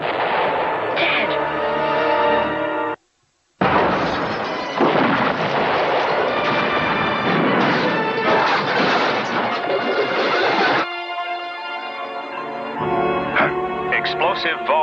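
A deep mining detonation in a film sound effect: heavy booming blasts and rolling rumbles, cut by a moment of dead silence, then a long thunderous roar that thins into quieter crackling debris.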